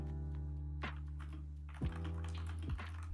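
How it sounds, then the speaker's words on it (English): Keys clacking on a computer keyboard in quick light taps, with a few heavier thumps, close and fairly quiet over a steady background hum; no talking. "I'm typing it"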